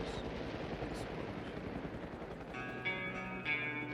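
A steady, dense rumble of helicopter rotors fills the scene, with distant gunfire crackling underneath and some indistinct voices.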